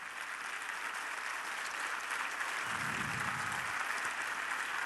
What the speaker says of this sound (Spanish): Dale un aplauso más fuerte de gloria al Señor si se lo vas a dar